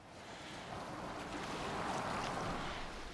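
A boat moving across open water in Assassin's Creed Valhalla, a steady wash of waves and wind rushing continuously around the hull with no voices.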